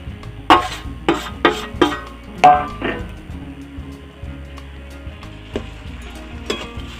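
Potatoes going into a pan of frying spices and ginger paste, stirred with a utensil: several sharp scraping clinks against the pan in the first few seconds, then quieter stirring and an occasional knock, with no talking.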